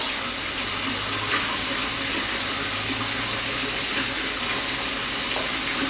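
A kitchen tap runs steadily into a sink, rinsing shrimp and ingredients, a constant close hiss and splash of water with no talking over it.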